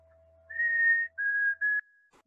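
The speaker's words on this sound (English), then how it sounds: "their song is that sweet whistle" Chickadee song: a sweet, clear whistle in three pure notes, the first long, then two shorter ones slightly lower, fairly close and alone against a quiet background with a faint steady hum.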